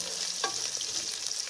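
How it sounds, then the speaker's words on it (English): Leeks and garlic sautéing in a hot pan, a close, steady hiss of sizzling oil with a brief stirring clink partway through, no voices. "I'm gonna saute the leeks and garlic."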